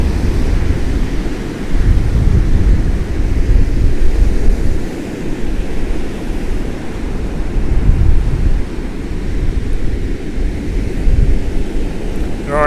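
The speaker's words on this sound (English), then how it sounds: "You get a few like fairly big waves and then all of a sudden you get massive ones just rolling." Huge North Sea waves at Hunstanton during Storm Darragh roll and crash continuously under loud, buffeting high winds that roar across the microphone, with no talking.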